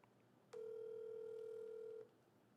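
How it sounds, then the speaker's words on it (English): A telephone placing a call gives a single steady electronic tone lasting about a second and a half, clear and close against a quiet background. "let me call Bang right now"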